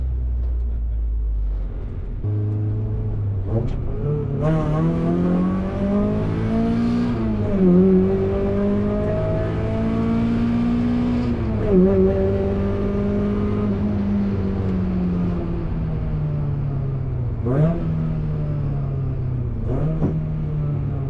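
Mazda MX-5 driving after differential, exhaust manifold and brake work, engine note rising and falling through gear changes in a steady drone from inside the car, with brief pauses between shifts.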